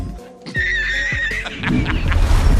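A horse gives a loud, close whinny with a rising, wavering pitch, followed by snorting and shuffling movement nearby.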